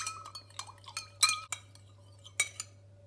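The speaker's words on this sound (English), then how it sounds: "Start stirring again." A metal teaspoon stirs in a glass to dissolve a solid, producing a quiet, irregular series of bright clinks and taps against the glass over a low steady hum.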